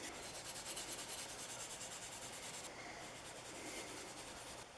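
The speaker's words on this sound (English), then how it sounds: "take some 4/0 steel wool, and I'm going to kind of rub it real good" Fine 4/0 steel wool scrubs back and forth over an oiled wooden body of a Winchester No. 3041 transitional smooth plane, a steady close, hissing rasp that softens slightly partway through.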